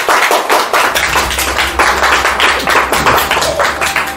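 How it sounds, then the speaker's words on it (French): A church congregation claps during a sermon, a loud, close run of clapping with an uneven rhythm from a modest group of hands, lasting a few seconds. "applaudissez pour elle"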